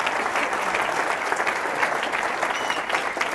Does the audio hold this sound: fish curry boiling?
no